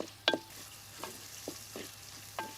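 Small shallots sautéing in a pan for a Kerala sardine dish, a faint soft sizzle punctuated by a handful of spaced spoon clinks and scrapes, close and quiet.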